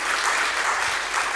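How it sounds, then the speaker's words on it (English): A brief burst of audience applause at a church fireworks service, dense and steady clapping from a nearby crowd with no talking over it. "I think give him a round of applause for a start."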